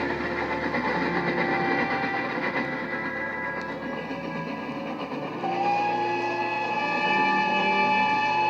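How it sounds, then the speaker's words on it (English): A steam train departs in a model railway scene, with a continuous rumbling of wheels and steady tonal whistle-like drones that swell slightly toward the end, heard alone without talk. "As they watched the train depart"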